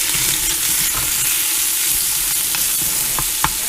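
Bacon fat, garlic and onions fry in a pressure cooker pot with a loud, continuous sizzle, broken by occasional crackles and pops and a sharper snap near the end.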